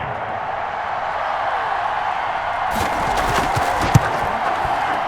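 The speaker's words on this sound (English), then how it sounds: "And get this home crowd behind them early as well." A home stadium crowd in the Madden NFL 21 football game, Baltimore Ravens versus Washington, keeps up a steady broad roar that swells louder partway through, with a few sharp spikes near the end.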